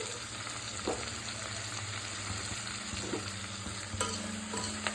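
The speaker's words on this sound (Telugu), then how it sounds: "ఈ ముక్కలకి మంచి కారము ఉప్పు పట్టే వరకు కొంచెము వేపుకోవాలండి" Vegetable pieces for Chennai-style sambar fry in a pan with chili powder and salt, a steady close sizzle running throughout, broken by a few soft scraping stirs and clicks of a spoon against the pan.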